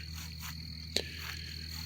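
Frogs and crickets call in the woods on a rainy evening, a steady high chirring drone with soft croaks underneath and one brief sharper call.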